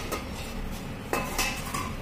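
A metal lid set onto a pot of thin singhi fish curry with vegetables, heard as a sharp clink about midway, followed by a few lighter metallic taps over a faint simmering background.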